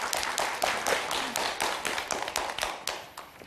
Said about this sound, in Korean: 민용태 한약 박사의 강의 큰 박수로 청해 듣도록 하겠습니다